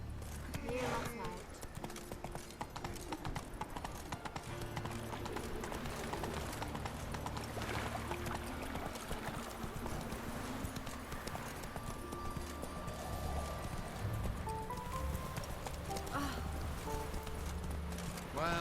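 Steady clip-clop of the horse Roach's hooves in The Witcher 3, a rhythmic trot that runs throughout under a voice, with game ambience and music in the background.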